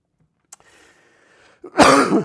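A faint breathy rasp, then a single loud, harsh cough close to the microphone.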